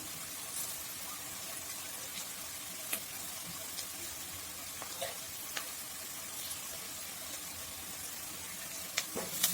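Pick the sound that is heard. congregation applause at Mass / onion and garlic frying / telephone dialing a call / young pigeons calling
onion and garlic frying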